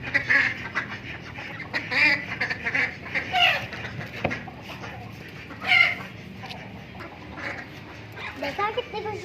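Several chickens and a rooster cluck and squawk close by in irregular bursts as they are let out, with some quacking-like calls, while a person talks intermittently.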